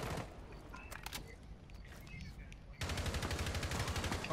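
Rapid gunfire in Rainbow Six Siege on the Consulate map, scattered shots early on, then a steady automatic burst through the final second and a half, with faint game ambience underneath.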